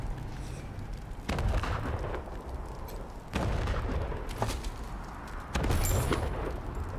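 Bursts of gunfire and heavy explosive booms from the combat game Wasteland 3 arrive in three loud waves, each a dense crackling salvo over a rumbling low-end bed, with no voices.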